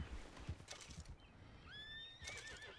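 A horse in the video game Red Dead Redemption 2 gives a clear, fairly close whinny with a rising then wavering pitch, after some soft rustling and hoof-like thuds.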